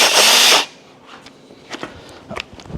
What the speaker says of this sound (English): Let me go grab me a drill, and we'll drill some holes.